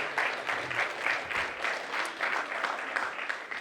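An audience claps for college panelists at an AP Capstone seminar event, a steady, dense round of applause that holds at an even level for the whole stretch.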